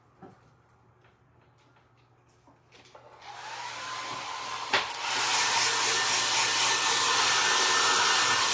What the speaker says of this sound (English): I'm going to use just a regular dryer on this